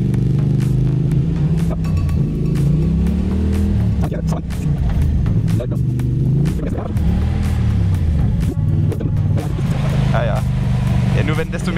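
A car engine pulls steadily in second gear up the winding Nockalmstraße mountain road, a loud continuous drone whose pitch rises and falls as it works through bends. Someone talks over it throughout.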